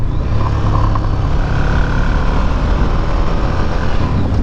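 A stock Ducati Monster motorcycle being ridden, its engine drone buried in loud, steady, broadband wind rush that stays constant throughout with no clear revs or gear changes.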